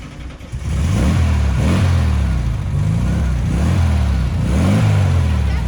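Volkswagen Beetle engine fired up and revved hard, several loud swelling rev cycles in a rough rhythmic pattern after a brief start, close by with no talk.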